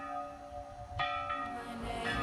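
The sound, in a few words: church bell ringing, San Macario bell in Andorra, Teruel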